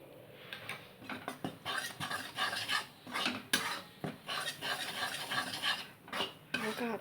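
A spoon scraping and stirring besan (gram flour) roasting in ghee in a pan, a steady series of gentle scrapes and clinks against the metal, close up and alone with no talk.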